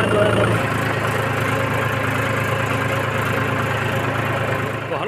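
Mahindra 265 DI tractor diesel engine idling on a farm field, a steady close rumble with a constant throb throughout, a brief louder patch at the start before settling.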